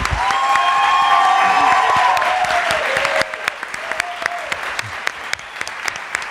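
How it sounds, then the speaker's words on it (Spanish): Studio audience at a Spanish revival show applauds loudly and steadily, with a dense wash of clapping and some cheering that thins after a few seconds into scattered claps. "Nuestro aplauso es para ti, claro que sí."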